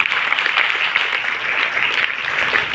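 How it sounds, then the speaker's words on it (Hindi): Audience at a girls' intermediate college Hindi Diwas program claps for a student's recitation, a thick, continuous round of applause from many hands, steady and moderately loud. "इसके लिए भी एक ताली बनती है"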